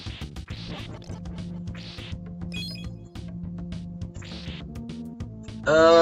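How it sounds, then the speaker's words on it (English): A bright, rapidly rising burst of high-pitched one-up chimes from Super Castlevania IV bursts out at the end, louder than the busy game music running underneath. "The weird noise you just heard that sounded really high-pitched, that's the one-up noise."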